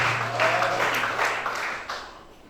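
A church congregation applauding during a Sunday service, a dense wash of clapping that is loud at first and gradually fades, with voices faintly mixed in.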